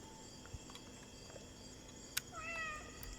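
A cat meows in a video game about a raccoon, a couple of faint, short rising calls late in the clip over a steady game background hum, with a brief click just before.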